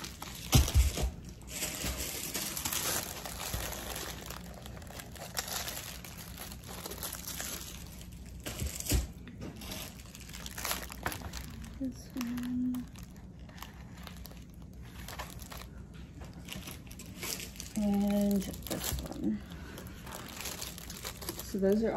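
Gift-wrapping paper crinkles and rustles while presents are wrapped, close and intermittent, in bursts throughout, with people talking over it.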